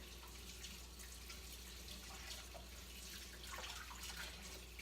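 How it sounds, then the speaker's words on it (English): A kitchen tap running while hands are rinsed during sauerkraut preparation, a soft steady stream of water with faint splashing, quiet and close. "Let me rinse my hands real quick here."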